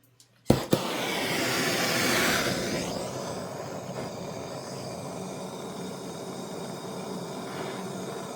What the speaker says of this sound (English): I'm actually going to heat up the aluminum